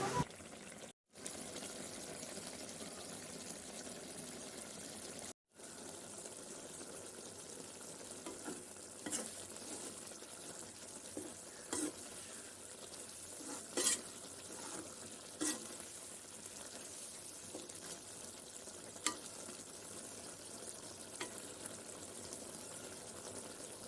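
Steady bubbling and sizzling from a pot of cluster bean (kothavarangai) curry on the stove, a constant hiss with occasional pops and stirring clinks, no voices.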